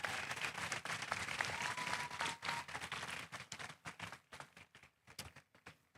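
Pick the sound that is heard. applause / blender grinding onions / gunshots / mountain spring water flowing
applause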